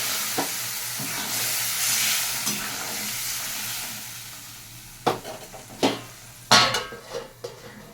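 Ground spices frying in a pan with salt as a little water goes in: a steady broadband sizzle, then a run of sharp spoon-and-pan scrapes and clatters in the second half.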